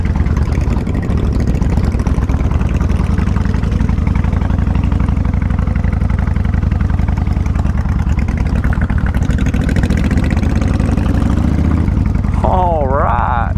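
A steady, loud engine drone runs throughout aboard the Millersburg ferry during a river crossing, with a short whistling sound near the end.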